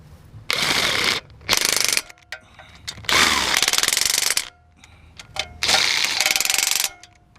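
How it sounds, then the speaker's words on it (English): Ratchet wrench tightening the critical collar screws on a Jeep Wrangler during oil pan seal work: four bursts of rapid mechanical clicking, each about a second long, separated by short pauses, close and loud. "now he's going to tighten all those up."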